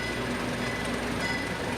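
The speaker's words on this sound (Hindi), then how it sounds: "पेरू रेल की ट्रेन चलने लगी।" A PeruRail passenger train in Peru pulls away from the station with a steady, close rumble of rolling wheels and carriages, no voices.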